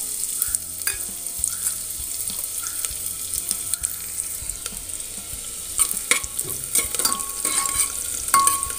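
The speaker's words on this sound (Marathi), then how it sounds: "तेल आणि तूप छान गरम झाल्यानंतर आता यामध्ये मी एक लांब चिरलेला कांदा घालते" Long-sliced onion going into hot oil and ghee for a Kolhapuri chicken rassa, a steady close sizzle with repeated light stirring clinks and scrapes that grow busier toward the end.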